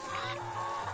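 Roosters clucking on a small Brazilian farm with ducks and poultry, a short burst of close, repeated throaty clucks with a brief higher call over them.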